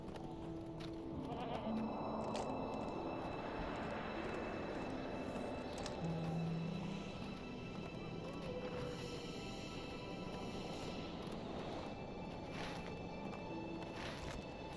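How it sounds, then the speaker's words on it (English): Goats bleat faintly across a high mountain pass in the online game Lord of the Rings Online, the calls scattered over a steady wash of ambient outdoor noise. "Look at all these goats."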